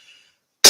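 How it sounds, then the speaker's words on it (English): A single sharp, loud cough bursts in close to the microphone after near silence, from a man who has been unwell. "this cough I tend to have is a bit of a sign of that"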